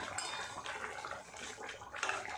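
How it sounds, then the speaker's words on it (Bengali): Pangas and tengra fish kalia gravy boiling in a pan, with soft, close bubbling and faint liquid pops, plus an occasional light clink of metal. "কেমন টকবক করে ফুটছে দেখুন"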